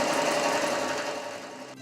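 A sewing machine runs continuously while stitching a natural hair piece, a steady mechanical hum and whir that eases off slightly toward the end before cutting out abruptly.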